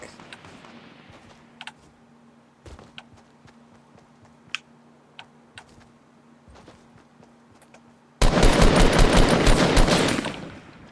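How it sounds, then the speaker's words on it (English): Gunfire rings out in a Fortnite Battle Royale match played on PC. Quiet scattered clicks and taps lead into a sudden, loud, rapid burst of shots that lasts a few seconds at the end. "Oh, getting sniped at from that direction, I think."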